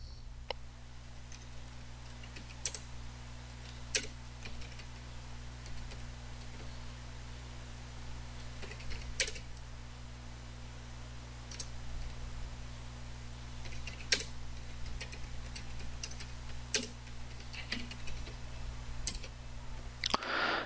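Typing a comment on a computer keyboard, with scattered key clicks and occasional louder taps spread across about twenty seconds over a steady hum and faint background noise, with no talk.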